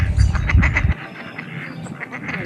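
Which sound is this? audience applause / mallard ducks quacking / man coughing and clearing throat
mallard ducks quacking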